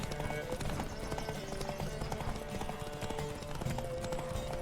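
Hooves clip-clop in a quick, rhythmic gallop as a horse runs in The Witcher 3, continuous and moderately close, with mild background noise and no breaks.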